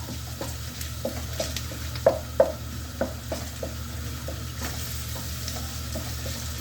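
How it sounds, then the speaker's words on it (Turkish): Onion and tomato paste frying and sizzling in oil in a pan, a steady hiss with scattered stirring scrapes and two sharper clacks near the middle, no voices. "O yüzden yağda şöyle bir soğanla beraber güzel kavururum."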